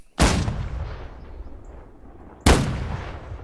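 Two heavy cannon blasts in a Holdfast online battle match, each a sharp loud boom with a long rumbling decay, the second about two seconds after the first, no talk over them.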